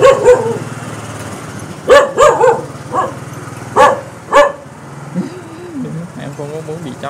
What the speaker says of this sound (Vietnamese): Em không có muốn bị chó cắn đâu.